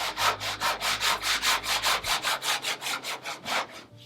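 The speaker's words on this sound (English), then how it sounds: "I'm just going to start fairing in the stem here." Wooden stem of an International 2.4mR sailboat on its building jig being faired by hand, about sixteen steady back-and-forth rasping strokes, close and even, tapering off at the end.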